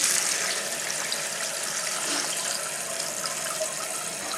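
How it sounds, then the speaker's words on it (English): Water rushes into a newly installed toilet tank, filling in a steady, close hiss and gush with no talk over it. "we're going to let the water go here and see what happens"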